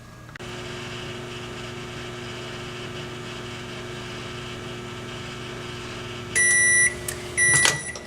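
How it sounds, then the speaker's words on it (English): A microwave oven hums steadily with a low drone, then beeps several times near the end as it finishes, with a couple of clicks. "now it's going to go in the microwave"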